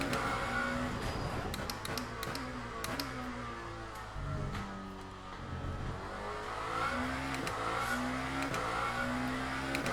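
A Lamborghini hypercar engine in Le Mans Ultimate revs and shifts repeatedly, its pitch climbing and dropping through gear changes in a steady, close, continuous drone.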